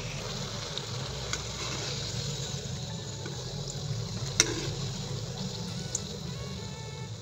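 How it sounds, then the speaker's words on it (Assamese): Potatoes frying in oil give a soft, steady sizzle with faint bubbling and a few small clicks, close and unbroken, with no voices. "এতিয়া আলুকেইডোখৰ ফ্ৰাই কৰি লৈছোঁ"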